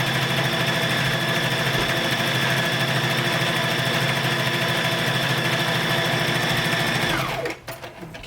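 A sewing machine runs continuously while top stitching a fabric strap for an owl stuffy, a close, steady whirring hum that winds down and stops near the end.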